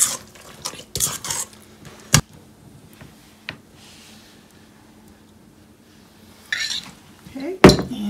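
Utensils clink and scrape against a serving dish as salsa and spinach dip are spooned into the end zones of a football-field snack stadium, with scattered clatters and a few sharper knocks, no talking.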